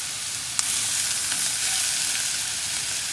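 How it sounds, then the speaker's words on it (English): Garlic, onions, mushrooms and carrots sauteing in a pan over high to medium flame, producing a constant loud close sizzle with a brief utensil tap near the start and soft stirring beneath. "Just saute for a few minutes till the garlic and the onions and mushrooms are slightly cooked."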